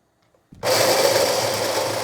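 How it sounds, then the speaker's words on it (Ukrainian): A small kitchen blender chopping soaked chickpeas: after a soft click, the motor kicks in abruptly and holds a loud, steady, high-pitched whirring grind to the end, close by and with no voices. "Частинами буду це все подрібнювати на блендері."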